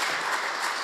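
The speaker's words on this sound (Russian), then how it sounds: "Аплодисменты нашему президенту." Brief burst of steady audience applause at a televised official gathering, a dense wash of clapping filling under a second with no pauses.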